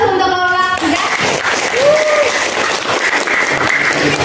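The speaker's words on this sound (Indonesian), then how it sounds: "beri aplaus untuk kelompok 3" A classroom audience claps for a presenting student group, with dense, loud, steady applause throughout and a brief voice near the start.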